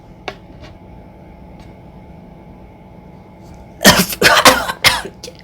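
A burst of harsh, raspy coughing breaks out after a few seconds of quiet room hum, several rough coughs close together.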